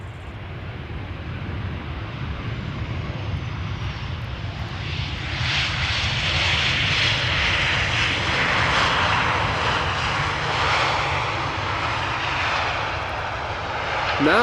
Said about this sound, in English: a Lufty 747 is arriving from the southeast